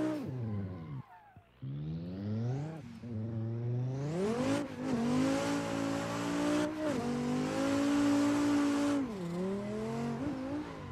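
Simulated Dodge Viper sliding sideways down tight mountain roads in a racing game, its engine repeatedly revving up and dropping through gears, loud and continuous, with a short gap where the revs fall away.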